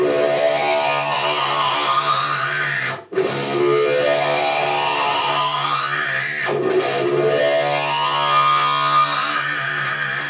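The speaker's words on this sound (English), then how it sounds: "I love having a fuzz in front of a wah because it just sounds ridiculous and crazy." An electric guitar runs through a fuzz pedal into a wah pedal, making loud, thick distorted sustained notes with sweeping vocal-like filter swells, broken by two brief cuts before the sweeps resume.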